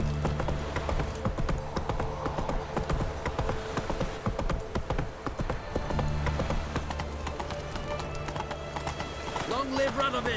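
Horse hoofbeats from the video game The Witcher 3, a fast continuous clip-clop of galloping running close and loud through the whole stretch, with game voices talking over it.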